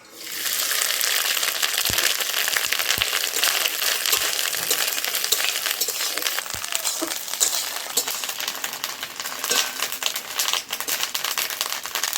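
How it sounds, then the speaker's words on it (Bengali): Rohu fish roe frying in hot oil, a dense hissing crackle that rises quickly and holds steady and close, with occasional small pops and utensil taps. "তেলটা গরম হয়েছে, আমি ডিমটা একটু ভেজে নিই।"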